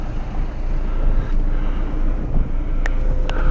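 Diesel Dodge Grand Caravan CRD cruising on the road, steady low road and engine rumble with wind buffeting across the microphone and a couple of brief higher clicks near the end.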